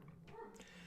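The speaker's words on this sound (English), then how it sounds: "Sorry if you can hear my dogs in the background there." Dogs bark and whimper faintly in the background indoors, with a couple of short, distant yips across a single second.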